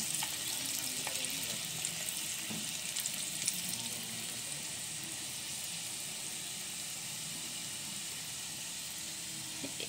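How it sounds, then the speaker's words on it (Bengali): Garlic and chili stirred with a spoon in boiling-hot oil in a bowl, giving a steady, dense crackling sizzle throughout, close and even, with faint clicks of the spoon. "হালকা একটু চামচ দিয়ে নেড়ে দিই।"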